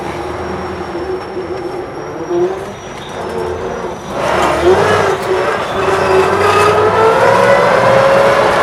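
A Studebaker camper pulls away, its engine droning low and then rising in pitch as it gathers speed, with faint whines and road noise building toward the end.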